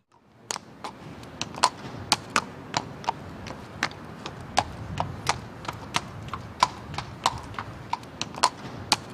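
A Dublin workhorse walks along at an even pace, its hooves striking hard ground in a steady, crisp clip-clop rhythm, close and clear against a quiet background.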